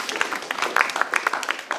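Audience applause at a city government State of the Cities event, a brief burst of scattered clapping with speech mixed in.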